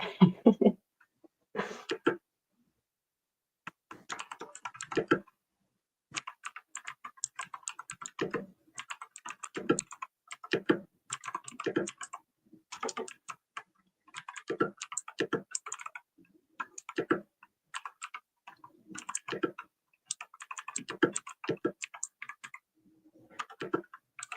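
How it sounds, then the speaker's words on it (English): Typing on a computer keyboard, close and fairly quiet, in irregular bursts of quick key clicks separated by short pauses. "typing over on Discord and it's a completely different keyboard"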